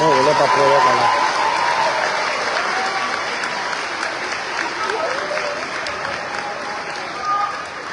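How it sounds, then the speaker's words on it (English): An audience at a Green Forest, Arkansas school ceremony gives a round of applause, a loud sustained wash of many hands clapping, with cheering and voices mixed in, especially at the start. "So if you guys can please again show them a round of applause"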